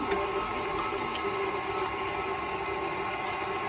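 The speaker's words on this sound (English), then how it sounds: "Now we're going to add this to our mixer and then slowly add our egg." Electric stand mixer beating churro dough as egg is worked in, giving a steady, loud mechanical whir and hum throughout, with a faint tick near the start and no talking.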